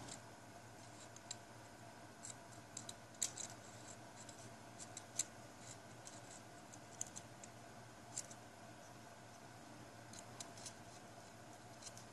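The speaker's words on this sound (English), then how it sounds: "Darn wire snips don't want to work halfway right" Dull wire snips cut wire while a Geyser dripping atomizer RDA is being built, producing faint, scattered little clicks and snaps at irregular intervals over a quiet, low background, with no talking.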